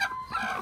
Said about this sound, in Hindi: मामू ने मुर्गी उठा ली, बहुत प्यारी सी मुर्गी है।